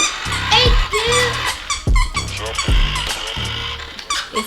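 A puppy's squeaky toy gives short, repeated high squeaks in quick bursts, with children's voices and chatter mixed in close by.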